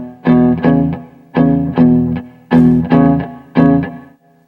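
Electric guitar in E alternating root-fifth and root-sixth two-note chords in a loping shuffle rhythm, played close and clear in three pairs of strummed hits with brief gaps between them.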